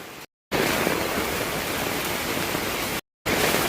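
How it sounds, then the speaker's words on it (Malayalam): A rain-fed waterfall roars in a steady, loud broadband rush, broken by two brief silent cuts. "വെള്ളച്ചാട്ടം ഇവിടെ ഇങ്ങനെ കാണുന്നുണ്ട് കേട്ടോ"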